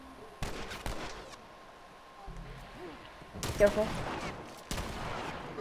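Shotgun blasts from The Last of Us Remastered come as a few separate, sharp, booming shots spaced seconds apart over quiet background ambience. A person briefly speaks between them.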